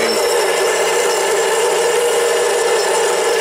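A Harbor Freight 7x10 mini lathe turns 304 stainless steel under automatic feed, giving a loud, steady, continuous machine whine and cutting hiss close by.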